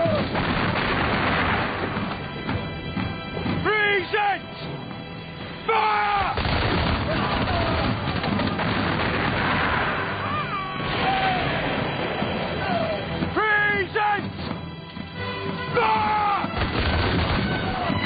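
A musket volley in a Napoleonic-era battle scene at Waterloo, loud repeated booming shots amid continuous battle din, with shouted voices and screeching sounds layered over the gunfire.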